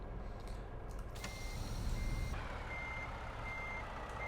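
A street sweeper truck in American Truck Simulator backs up, its reversing alarm sounding a steady series of high beeps over a low, continuous engine rumble.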